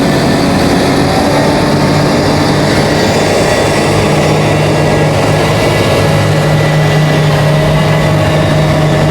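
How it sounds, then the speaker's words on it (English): A large John Deere tractor idles close by at a summer festival, a loud, steady low-pitched diesel drone that runs unbroken throughout with no voices over it. "Look at the size of this John Deere tractor."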